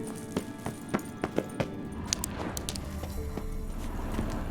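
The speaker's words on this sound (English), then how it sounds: "Another horse." Horse hooves clip-clop in The Witcher 3, a run of distinct, fairly close hoof beats through the first couple of seconds that fade into a steady ambient wash of game noise.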